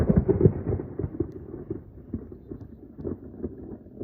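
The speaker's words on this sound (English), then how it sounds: "Thunder." Low, rumbling thunder rolling continuously in the distance, with uneven swells and no other sounds.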